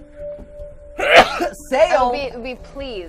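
A single sharp sneeze bursts out mid-conversation, loud and close, with people chatting before and after it.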